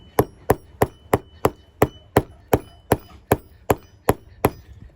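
Sharp, evenly spaced hammer blows drive a fence staple into wood for a carpenter bee trap, about fifteen crisp whacks in steady rhythm, close and alone with no speech.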